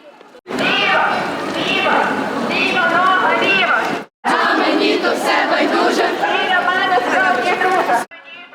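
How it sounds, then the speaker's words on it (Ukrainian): A column of Plast scouts marches through Ivano-Frankivsk for the 112th anniversary of the first Plast oath, shouting slogans and singing together. The massed voices are loud and continuous, with one brief break partway through. "Вони йдуть серед містям, вигукуючи гасла та співаючи пісні."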